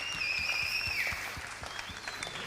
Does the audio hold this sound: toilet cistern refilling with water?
no